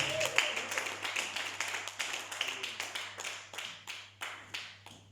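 Congregation clapping together for the glory of God during a church service, a steady rhythmic beat of many hands in unison, moderately close, each clap distinct and slightly slowing toward the end over a low hum.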